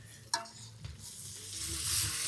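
Beef and prawns are stirred and fried in a pot at a zamindar-house picnic, with soft scraping strokes and a rising sizzle that grows louder toward the end. No one speaks.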